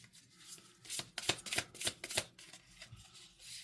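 A mini tarot deck shuffled by hand before a reading: a quick run of crisp, riffling card flutters in several bursts, close and fairly quiet, with no talking.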